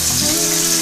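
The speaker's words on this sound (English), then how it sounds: "while we're waiting on that to fry up" Alligator meat frying in hot oil gives off a loud, steady, close-up sizzle with a bubbling crackle, lasting just under a second with no voices.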